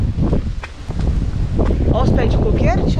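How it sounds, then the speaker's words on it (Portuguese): Strong wind buffets the microphone outdoors near coconut palms, a steady low rumble with rustling throughout while people talk over it. "Tá ventando bastante."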